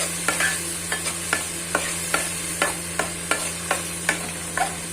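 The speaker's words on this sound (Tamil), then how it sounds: "தக்காளி, கருவேப்பிலை, சின்ன வெங்காயம், இது மூணையும் போட்டு நல்லா அதை வளர்க்குறோம்" Tomato, curry leaves and shallots frying in oil for a sundakkai kuzhambu, a steady soft sizzle under regular scrapes of a spoon stirring the pan about every half second, with no voices.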